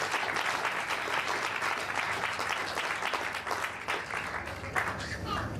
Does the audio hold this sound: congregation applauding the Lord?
yes